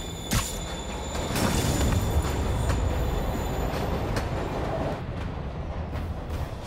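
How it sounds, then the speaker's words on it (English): A subway train pulls away from the platform in Spider-Man Remastered, a loud continuous rumble with rattling wheels and a faint high squeal, settling slightly toward the end. "Train moving. Lee's getting away."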